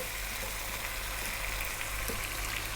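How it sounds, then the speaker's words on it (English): Tomatoes and spices frying in a pan for Arab lamb kabsa, giving a steady, dense sizzle with a constant hiss and no pauses, close and even in loudness throughout. "we're now going to add 3 cups of tomatoes that I've cut very large"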